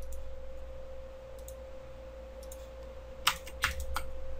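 Computer keyboard keys clicked a few times in quick succession near the end, sharp close taps over a steady low electronic hum and a faint tone.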